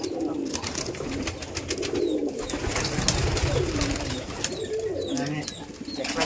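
Giribaz pigeons at a pigeon farm in Rajshahi coo steadily in a low, rolling chorus, with repeated overlapping calls close by, some wing movement, and voices in the background.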